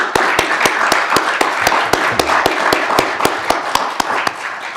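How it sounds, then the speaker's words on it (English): Slow, evenly spaced claps ring out at a startup founders panel, a regular rhythmic beat of single sharp hand claps repeating over several seconds, fairly close and prominent. "So let's go ahead and give a panel round of applause."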